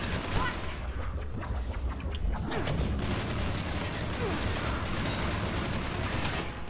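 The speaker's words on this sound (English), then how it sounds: "As you can see, this is extremely good rifle. It splits bullets" Rapid assault rifle fire in the Mass Effect 3 multiplayer shooter, a dense continuous rattle of shots lasting throughout, loud and close, with no voices over it.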